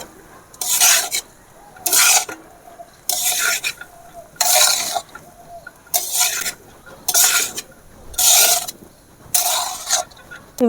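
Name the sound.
stirring garam masala powder into chicken kosha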